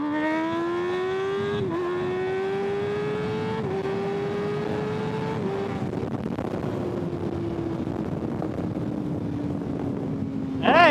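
A 2025 Kawasaki ZX-6R motorcycle revs hard through several rising gear pulls, the engine note climbing then dropping at each shift, loud and close with wind rush over it.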